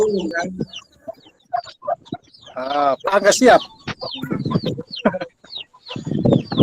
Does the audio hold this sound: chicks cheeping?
yes